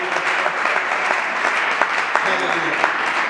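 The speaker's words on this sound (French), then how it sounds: "J'aimerais qu'on acclame pour le roi." Congregation applauding and cheering at a church Bible teaching session in Burkina Faso, a steady dense wash of clapping throughout, loud and close, with voices mixed into the crowd noise.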